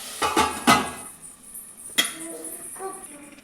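A metal spoon clinks and scrapes against a cooking pot of tomato curry with curry leaves, followed by a lid being set down with a sharp clatter and a few lighter clinks.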